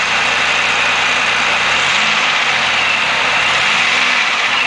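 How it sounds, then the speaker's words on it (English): Car engine revving during a repair, with oil spraying out of the dipstick tube. It gives a loud, continuous, close roar that holds steady throughout. "Rev it up a little bit."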